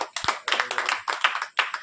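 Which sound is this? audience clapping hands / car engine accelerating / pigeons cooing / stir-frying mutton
audience clapping hands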